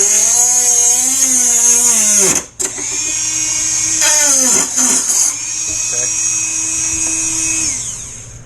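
A loud, high-pitched rotary tool with a cut-off disc whines as it cuts through metal hardware, pausing briefly then spinning back up and grinding steadily, its pitch shifting with load.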